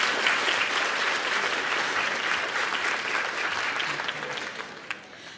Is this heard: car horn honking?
no